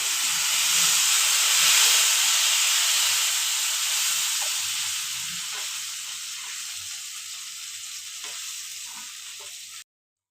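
Tamarind paste sizzles and hisses in hot oil in a pan, with garlic already fried, as a steady loud fry that tapers slightly before stopping abruptly. A faint stirring thud sounds now and then.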